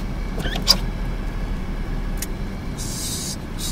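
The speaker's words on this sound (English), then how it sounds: "Driving down the mountain." A car descending a mountain pass road toward Lake Como in Italy, heard from inside as a steady low engine and road rumble with a faint whine and a few light rattles, with no talking.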